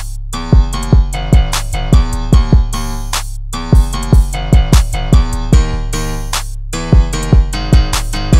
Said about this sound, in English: This is the BWB Open Hat 1.